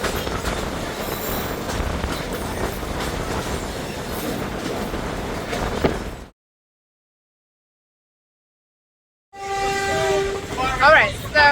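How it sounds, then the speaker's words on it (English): Rail transport rumble and wheel noise roll along steadily before a gap of silence, then a train horn blares in short, loud blasts near the tracks on St. Kitts, sounded at goats on the line. "they're blowing the horn on the train"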